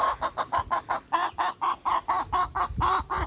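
Chickens on a farm cluck in a quick, regular series of short calls, close by and clear against a quiet background.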